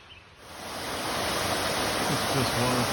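Roaring water pours steadily down Whitewater Falls in Oconee State Park, South Carolina, a dense continuous rush that swells after the first half second and stays loud.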